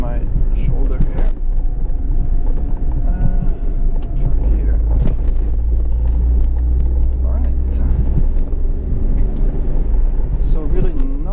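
Steady, loud engine and road rumble inside a 1990 Honda Acty Street G van with a manual gearbox, driving along with a constant low drone and some cabin vibration; a person talks over it.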